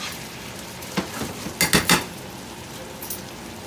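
Grilled chicken is tossed in a hot pan, giving a faint sizzle with a quick cluster of metallic clinks and scrapes from the pan and utensils, then a few scattered taps.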